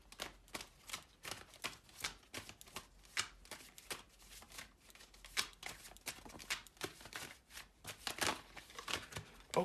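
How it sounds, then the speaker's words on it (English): Moonology oracle cards being shuffled and handled, a quick run of close, crisp riffling flicks and papery snaps repeating irregularly throughout, with no talking. "Let me get some Moonology Oracle cards here for you guys to wrap this up."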